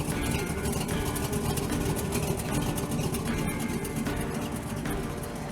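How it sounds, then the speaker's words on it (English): A V8 engine swapped into a Pontiac Fiero runs steadily nearby, a dense, loud rumble with a rapid uneven pulsing that holds unchanged throughout. "Now that we've got this engine put back into the car, it looks great, it sounds great"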